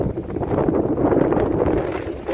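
Horse hooves clip-clop on a dirt track near Lagoa Azul, a steady patter of soft knocks under wind and rumbling noise.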